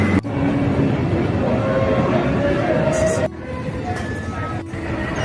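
A Marmaray commuter train in Istanbul rumbles along in a steady, loud roar with squealing tones, then shifts to a slightly quieter run with a few sharp clicks.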